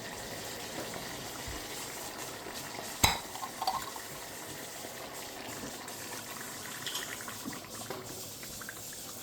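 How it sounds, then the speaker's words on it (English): Meat and tomato sauce for spaghetti stirred in a pan, a soft steady bubbling and scraping with one sharp clank of the utensil early on, quiet and close with no talk. "When adding the sauce to the meat, I actually just keep stirring it for a little while like this until it's all nice and hot."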